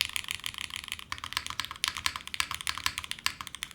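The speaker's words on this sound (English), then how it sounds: "I think these switches are perfect for this keyboard, by the way." Rapid, even keystrokes on a Forever65 mechanical keyboard with a carbon fiber plate, crisp clicky taps close up and alone, with no voices.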